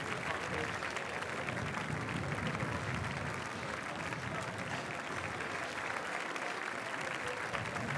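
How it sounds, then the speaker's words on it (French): A large crowd applauds and cheers as film teams arrive at the Cannes Film Festival 2015 on the red carpet steps, steady continuous clapping heard from a distance with a commentator talking over it. "Les applaudissements, l'ovation pour accueillir les équipes des films présentés."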